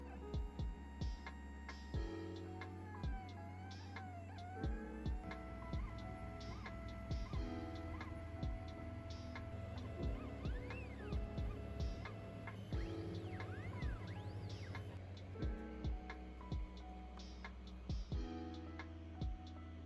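A MyCuisini chocolate 3D printer printing a small Benchy boat, with faint stepper-motor whines and rapid rhythmic ticking that runs steadily and quietly throughout.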